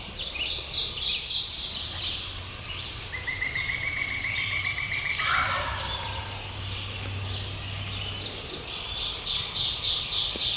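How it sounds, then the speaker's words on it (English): A wild turkey gobbling off the roost in spring woods, a few rattling gobbles at moderate distance amid other birdsong, a loud trill near the end and a steady background hum. "That bird just gobbled to my right twice now."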